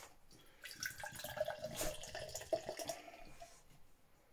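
Rich Vocation Naughty & Nice chocolate stout, 7.4%, poured into a glass, giving a steady gurgling, splashing liquid stream with small glugs and clinks, close by and alone for several seconds.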